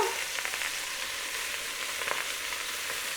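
Sauce being stirred and mixed in a pressure cooker pot, a soft continuous sizzling hiss with faint scraping strokes, steady and close with no talking.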